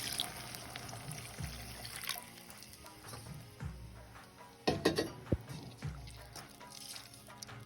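Pumpkin water poured into a pan while making Kasi halva, a steady trickling liquid sound with a few light clinks of the pan, close and alone.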